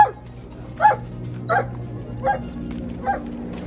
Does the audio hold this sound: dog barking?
yes